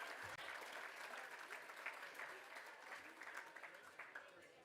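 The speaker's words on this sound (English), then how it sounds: "a big round of applause for Adam" A room applauds at a fundraising gala with live auction, sustained clapping from many guests at a steady, moderately distant level.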